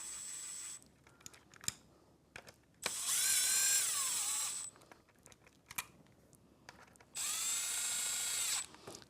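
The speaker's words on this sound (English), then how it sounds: "So I'll put that on my drill here" A cordless drill with a 1/8 hex bit drives screws while installing an E-Plex 7900 mortise lock: two whirring bursts of about two seconds each, separated by quiet clicks and handling noises.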